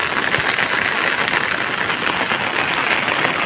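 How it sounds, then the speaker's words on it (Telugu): Rain pours steadily in farmland, a dense, loud, even hiss of drops hitting the ground and surfaces that continues unbroken throughout with no voices. "వర్షం ఇంకా వస్తుంది."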